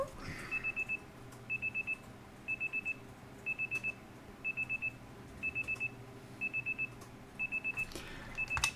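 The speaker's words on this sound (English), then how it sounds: "The next day, your alarm is going off." An in-game alarm clock in Pokemon Legends Z-A goes off, a repeating electronic beep pattern of quick bursts, roughly one per second, sounding steadily over a quiet background.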